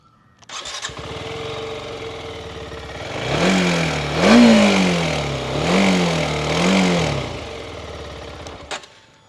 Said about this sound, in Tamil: இந்த RTX 300ஓட எக்ஸாஸ்ட் நோட் நீங்கள் கேட்டு பாருங்கள்.